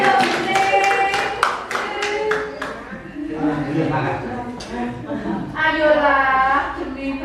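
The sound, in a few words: audience applause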